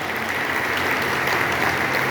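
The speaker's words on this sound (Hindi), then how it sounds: "वो लोग ताली बजा लो ऊपर" Steady clapping from an audience at a talk in Varanasi, a dense even patter of many hands that runs briefly with no voices over it.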